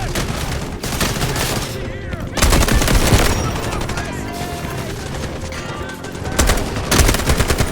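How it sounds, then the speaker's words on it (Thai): Gunfire in the shooter game Delta Force, including shotgun blasts, comes as loud close bursts and volleys separated by brief lulls, with a voice talking faintly underneath. "ยิงลูกซองตัวนี้"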